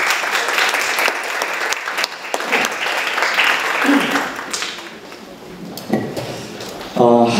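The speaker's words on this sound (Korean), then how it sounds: "큰 박수로 모시겠습니다." A seated audience at a Korean youth forum applauds as speakers and panelists are welcomed to the stage. The clapping is dense and strong, then gradually thins, with a few clinks and knocks and some brief voices near the end.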